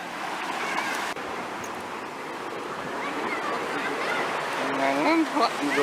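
Strong surf breaking at Cha-am beach on the Gulf of Thailand, a steady roaring wash of waves close by, with someone speaking over it.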